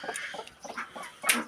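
A broody hen clucks in short, evenly spaced bursts near newly hatching chicks, close by, ending in a louder, sharper cluck.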